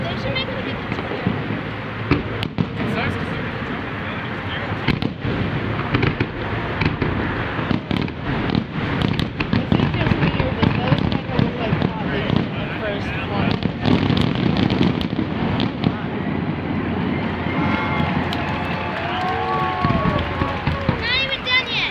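Fireworks burst repeatedly over a crowd of onlookers, dense crackling and booming volleys continuing throughout, with people talking and reacting nearby.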